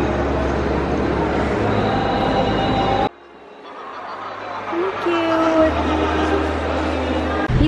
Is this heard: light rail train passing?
yes